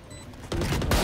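Two sharp, close gunshot bursts from the game Valorant follow a quiet start, landing about half a second apart.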